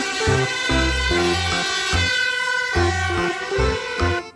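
A toy fire engine blares its electronic siren up close, a loud, steady two-tone wail that alternates pitch in a repeating pattern, with no talking over it.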